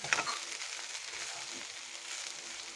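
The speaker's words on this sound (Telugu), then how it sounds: "ఇలా బాగా ఇది రెడ్ కలర్ వచ్చే వరకు బాగా వేగనివ్వాలి కాకరకాయని" Bitter gourd frying in a pan until reddish gives a faint, even sizzle and hiss, low and steady, with a small clink near the start.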